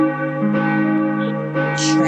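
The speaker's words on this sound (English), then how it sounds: "the bell" Church bell tolling in the video game Gothic 1881, sustained ringing with layered overtones and a fresh strike about midway and again near the end, fairly loud and alone.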